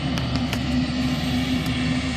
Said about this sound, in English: so the chopper is moving on to the next thing